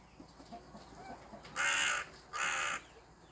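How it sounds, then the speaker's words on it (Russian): Two loud, close crow caws about a second apart, each a harsh drawn-out call, over faint rural background noise on a smallholding. "У нас тут каркунья пролетела и каркает."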